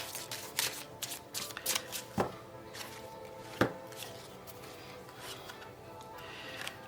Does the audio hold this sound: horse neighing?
no